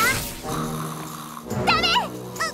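A cartoon character snores in drawn-out, wheezy breaths with a whistling, warbling rise, loud and close in an animated children's show, with other voices briefly around it.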